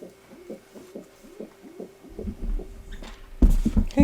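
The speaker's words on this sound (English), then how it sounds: "You cooing, buddy?" A white racing pigeon coos in a steady series of low, soft pulsing calls, close by, with handling or rustling noise rising toward the end.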